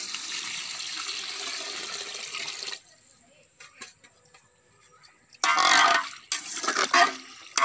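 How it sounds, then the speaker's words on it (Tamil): Water pours into a pot for quail biryani, a steady close gushing splash for a few seconds, then a pause, then a second, shorter pour, with no talk. "தேவையான அளவு தண்ணிகள்"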